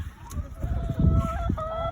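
Chickens cluck and murmur close by, several birds overlapping with short bursts and a few higher calls, amid some rustling.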